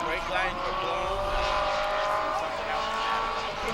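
Race cars lap a track in a short five-lap event, their engines a loud sustained roar with tire noise, heard under continuous talk from a commentator.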